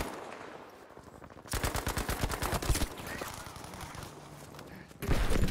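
Gunfire in the multiplayer shooter Battlefield 5, including a frag grenade rifle, arrives as a loud rapid automatic burst of shots, followed by more scattered fire and a sharp blast near the end.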